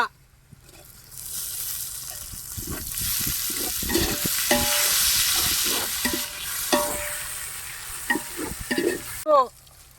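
Tomatoes frying and being stirred in a pan for chicken biryani, cooked outdoors in a mango orchard, with a steady close sizzle and scraping stir strokes, some dish clatter, and a voice speaking near the end.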